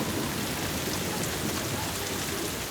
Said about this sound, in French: quand ça arrive, la pluie, ça arrive vite